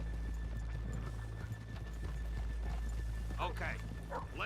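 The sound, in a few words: horses walking and neighing in video game Red Dead Redemption 2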